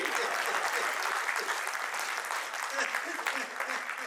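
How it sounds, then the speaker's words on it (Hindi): An audience at a Hindi comic poetry gathering applauds in a thick, continuous wash of clapping that holds steady throughout, with faint crowd voices blended in. "तालियां कम है आपकी।"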